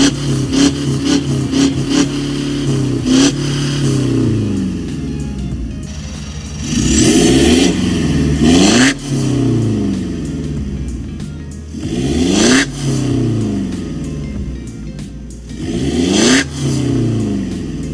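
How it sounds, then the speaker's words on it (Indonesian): A stock Mitsubishi Pajero Dakar with only an ECU remap runs close by, its engine rumbling at idle between several loud revving blips that rise and fall. "Nah ini untuk suara idle dari Pajero Dakar standar remap only."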